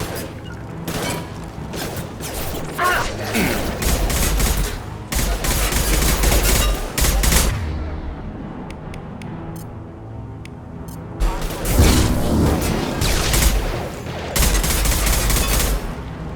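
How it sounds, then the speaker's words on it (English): Bursts of gunfire from the Mass Effect 2 video game, with repeated volleys and rapid automatic fire in several loud clusters across the span, separated by a quieter stretch. "He's gunning down his own crew to keep control?"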